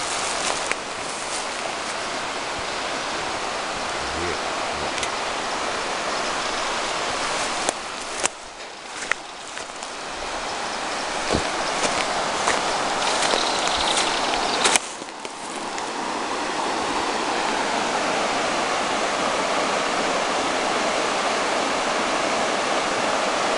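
A river runs in a broad, steady rush close to the microphone, its hiss continuing unbroken for over twenty seconds apart from brief bumps and handling thumps around the middle.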